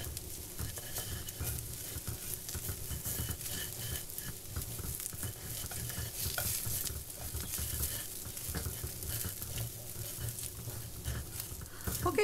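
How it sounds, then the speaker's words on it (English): Rice grains frying in a pot with cumin for jeera rice, stirred with a spoon: a steady, dense sizzle with scraping and stirring textures running continuously and close, with no talk. "I've been frying my rice grains for a while"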